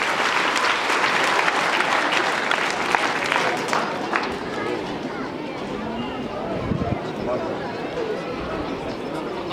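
Crowd applause welcoming teachers at a school annual day in Doda, loud dense clapping that thins after a few seconds into murmuring chatter and a speaking voice.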